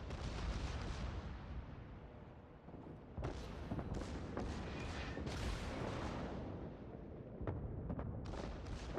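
Yamato battleship guns in World of Warships fire in heavy, booming salvos with long rumbling tails, several blasts spread over a dense, loud battle din.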